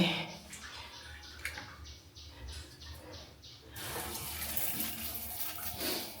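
Shower water runs at a rainy-season riverside campsite in Kaeng Krachan, Phetchaburi, in a clean bathroom without a water heater. A steady rushing spray swells louder about halfway through and keeps going with no talk.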